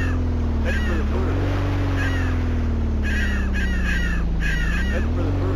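Repeated bird calls in a Black Bass with Blue Marlin fishing game, harsh caw-like cries in several short bursts over a loud, steady engine drone of a boat, with a voice talking intermittently.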